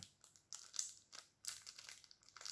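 Plastic shrink wrap is crinkled and peeled off a Deviant Moon borderless tarot deck, with several close crackling bursts and rustles spread irregularly across the moment.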